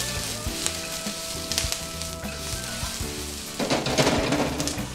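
Onion frying in a pan until golden, with a steady close sizzle, occasional stirring scrapes and spatters, and the sizzle growing louder near the end; no voices.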